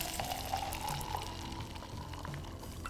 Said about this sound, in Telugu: కొన్ని నీళ్లు పోసుకోండి